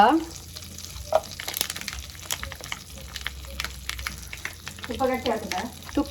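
Butter and ghee sizzle in a frying pan for paneer bhurji, a steady crackling hiss with a few louder pops and stirring scrapes, close and fairly quiet with no talking.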